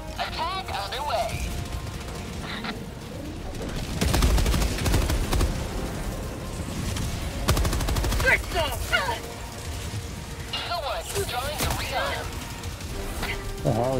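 Bursts of rapid automatic gunfire and heavy impacts in the Helldivers 2 combat video game, loud and continuous with rumbling explosions, while a player speaks over parts of it.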